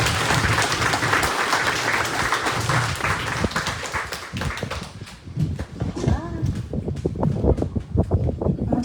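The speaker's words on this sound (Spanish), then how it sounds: "Gracias y un aplauso para ella," An audience applauds at a book presentation, a thick wash of clapping that thins after a few seconds and gives way to a voice speaking over the fading claps.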